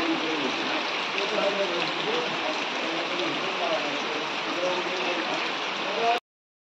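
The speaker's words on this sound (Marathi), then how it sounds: "मित्रांनो पाऊस कंटिन्यू चालू आहे." Continuous monsoon rain falls during the Ganesh festival season on a darkening evening, a steady, unbroken hiss that holds at an even level until it cuts off abruptly near the end.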